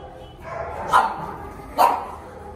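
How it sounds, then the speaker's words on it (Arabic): A large dog barks twice, loud and close, with a pause between the barks over quiet background noise. "يعني الكلب اللي هنخش ده بيعد اصحابه"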